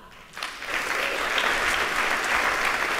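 A conference audience at a marketing event breaks into steady applause welcoming Professor Dr. Nils Hafner. The clapping starts abruptly after a brief quiet moment and holds at an even, fairly loud level until the end.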